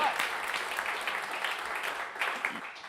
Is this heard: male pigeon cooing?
no